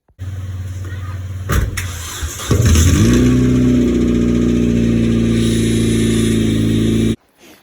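A 2008 Hyundai Tiburon GS 2.0 engine cranks briefly, catches, and settles into a steady, loud idle that holds for several seconds before cutting off, recorded close after clutch replacement work.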